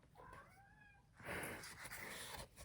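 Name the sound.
cat meowing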